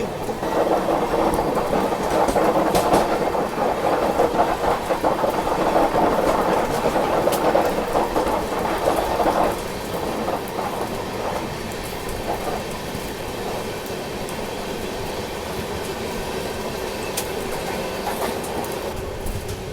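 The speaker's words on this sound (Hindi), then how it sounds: "तो ये थी आपकी चेन्नई सेंट्रल भगत की कोठी एक्सप्रेस, यानी कि जोधपुर को जाने वाली।" Hyderabad Duronto Express running, heard from inside a sleeper coach: a continuous loud rumble with rhythmic wheel clatter and occasional rattles, easing slightly in intensity about halfway through.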